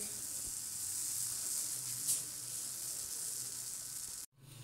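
Turmeric golden milk coming to a boil on a stovetop, a steady close hiss and low bubbling simmer running continuously before cutting off abruptly near the end.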